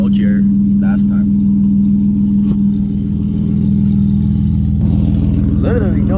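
A BMW E36 with a new loud exhaust and no catalytic converters runs with a deep, throbbing drone, loud and close, and rises in a couple of revs as people talk over it.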